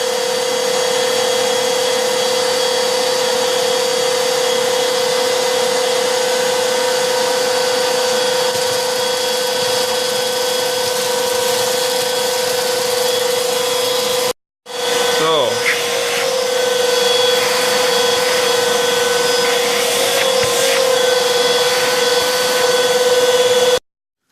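Two cordless stick vacuums, a Black+Decker BDH2000PL 20-volt and an 18-volt model, run in turn with a loud, steady motor whine, briefly cutting out near the middle before the second starts up.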